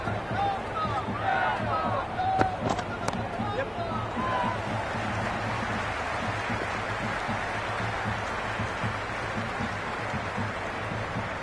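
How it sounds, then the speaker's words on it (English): A large cricket stadium crowd roars and cheers continuously, a dense wash of noise with a few whistles and shouts rising out of it early on. "Will you listen to that crowd? They are loving this."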